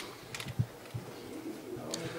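Racing pigeons arriving at a loft give soft, low cooing calls with a few faint wing flutters, fairly near and quiet against light background noise.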